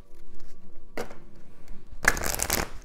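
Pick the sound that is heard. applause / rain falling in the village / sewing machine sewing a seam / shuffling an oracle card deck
shuffling an oracle card deck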